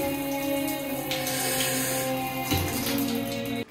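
Shower running in a spacious shower room with weak water pressure, a steady hiss of spray and splashing water that continues throughout without talk.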